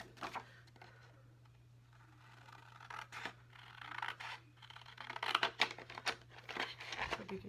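Scissors cutting out a paper card for a pop-up box card, with quiet snips, scratchy paper rustles and crinkling in irregular bursts, faint and close, under a low steady hum.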